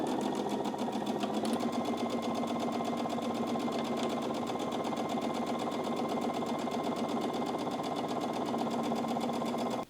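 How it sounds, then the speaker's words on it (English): Sewing machine stitching a seam with a half-inch allowance, a close, continuous rapid mechanical hum and needle chatter running steadily without pause for the whole stretch. "we're going to sew this at our sewing machine using a 1/2 inch seam allowance"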